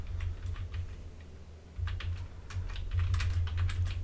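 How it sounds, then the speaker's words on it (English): Quiet, rapid clicking of a computer keyboard while someone types database commands, with soft keystrokes in uneven bursts, close to the mic, and no talking. "I'm not normally this bad at typing, I'm trying to be quiet because otherwise it makes a racket in the mic."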